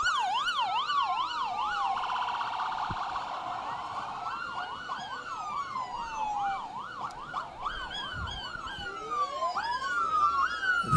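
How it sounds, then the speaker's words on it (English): Ambulance of the Trinidad and Tobago Regiment passing in the Point Fortin military parade, its rapid yelping sirens overlapping with other wailing sirens, loud and continuous throughout. "That's the ambulance, the ambulance of the Trinidad and Tobago Regiment."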